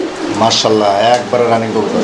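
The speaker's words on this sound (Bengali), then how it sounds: "প্রচুর ডাকে একদম ভরপুর ডাকের কবুতর দুইটাই" German Beauty pigeons coo in low, throaty, rolling calls, close and loud, with a person speaking over them.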